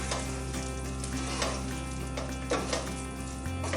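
Potatoes and eggs frying in a pan with steady, loud sizzling as a utensil stirs them, occasional scraping strokes rising above the constant crackle, close and with no talking.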